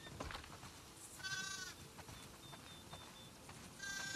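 Sheep bleat a few times in the video game The Last of Us II, moderately close, over a busy outdoor farm background with rustling and footsteps.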